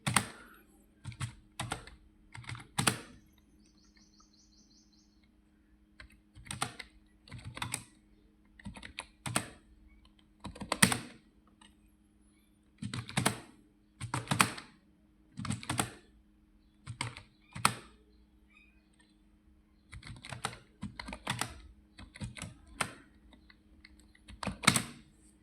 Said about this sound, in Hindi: तो यहाँ पे हम अपनी टाइपिंग स्टार्ट कर सकते हैं।